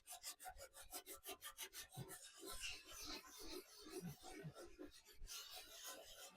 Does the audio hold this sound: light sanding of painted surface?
yes